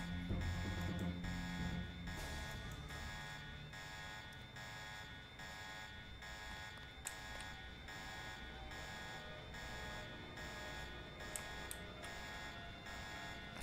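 An electronic alarm in the video game Deus Ex sounds continuously as a steady, sustained buzzing tone with repeating pulses, moderately loud and unbroken.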